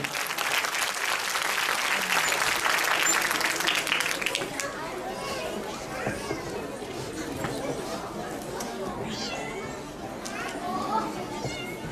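An audience at a Quran course graduation ceremony claps loudly for several seconds, the applause fading into crowd chatter with children's voices and movement.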